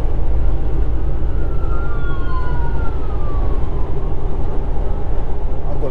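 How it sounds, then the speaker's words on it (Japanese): An ambulance siren wails faintly through heavy, steady road rumble from inside a long-haul truck in the United States, its tone sliding down as it passes on the left. "あ、左から救急車が"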